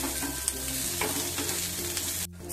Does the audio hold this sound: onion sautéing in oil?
yes